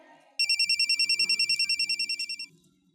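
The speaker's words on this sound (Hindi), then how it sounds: "ये तो असद का फोन है।" A phone rings with a rapid electronic trill, loud and close, pulsing steadily for about two seconds before stopping.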